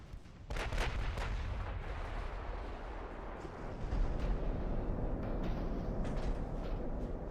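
Heavy cruiser naval guns firing shells in the naval battle game Ultimate Admiral: Dreadnoughts, a sharp salvo of booming shots up front, then dense overlapping rumbling blasts continuing loudly to the end, with no talk.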